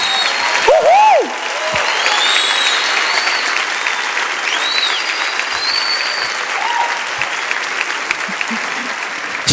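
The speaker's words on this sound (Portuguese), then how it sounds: "Aplauda forte, igreja." A church congregation applauds loudly during a worship service, continuous dense clapping for nearly ten seconds, with scattered whistles and cheers rising above it.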